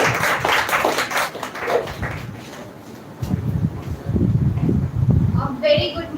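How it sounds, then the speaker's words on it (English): An audience at a spoken English speech contest grand finale breaks into a short burst of clapping, which fades as a voice begins speaking. "Please give a huge round of applause for him."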